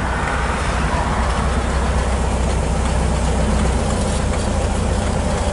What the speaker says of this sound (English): Motor's not working hard at all.